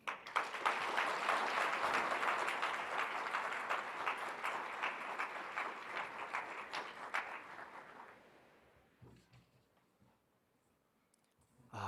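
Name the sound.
audience applause for a speaker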